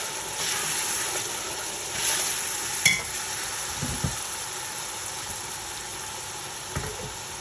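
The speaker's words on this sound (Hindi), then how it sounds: "थोड़ी देर के लिए लहसुन अदरक को मैं भून के" Garlic and ginger fry in a pan for chicken biryani, a continuous close hiss of sizzling oil with occasional light stirring scrapes and clicks.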